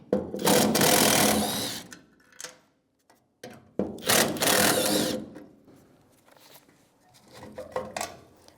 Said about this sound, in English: I'm going to remove all 3 of these mounting screws.